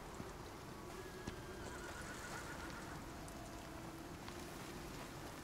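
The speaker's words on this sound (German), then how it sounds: "Da kommt wieder so ein Pferd." A horse whinnies in the survival video game Icarus, a brief neigh heard over a steady wash of falling rain and ambient noise.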